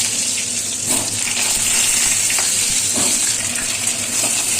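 Potatoes slide into hot oil seasoned with cinnamon and cumin for a Bengali dum aloo, giving a steady, loud sizzle and bubbling that fills the whole stretch, with soft stirring scrapes and no talking.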